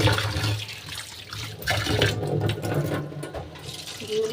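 Urad dal lentils being rinsed in water in a home kitchen before pressure cooking, with a steady sloshing, running-water wash that continues throughout at close range.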